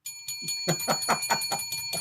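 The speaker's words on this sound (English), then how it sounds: "I got to give let's give Lou the bell" A bell rung on a TV show gives a rapid series of about a dozen bright strikes over two seconds, its metallic ringing tones hanging steadily between hits, with no voices over it.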